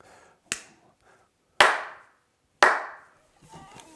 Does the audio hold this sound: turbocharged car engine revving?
no